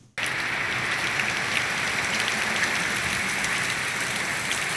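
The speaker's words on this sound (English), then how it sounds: "torrential rain as Hurricane Isaias made landfall" Torrential rain from Hurricane Isaias on the islands pours down in a dense, continuous roar that starts abruptly and holds loud and steady throughout.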